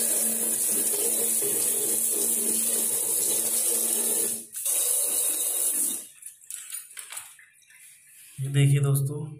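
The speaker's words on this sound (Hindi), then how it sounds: "पानी मार लेंगे इसके ऊपर।" Water sprays steadily onto a bathroom drain grate in a loud, hissing rush for several seconds, then cuts off into sporadic splashes and drips before a brief low rumble.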